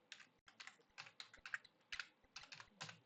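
Typing on a computer keyboard during ArcGIS land-use mapping work, a steady run of close, crisp key clicks in short irregular bursts with brief pauses between.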